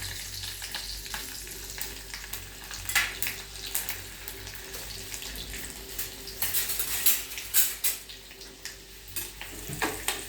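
Chopped garlic hits hot oil already tempered with cumin, mustard seeds, asafoetida and turmeric for dal fry, giving a steady close sizzle with occasional scraping stirs of a spoon in the pan.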